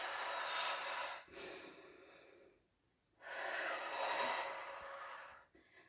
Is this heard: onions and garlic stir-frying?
no